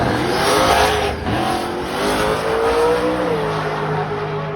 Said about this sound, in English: Tire spins to right and goes left a little bit, brings it back in.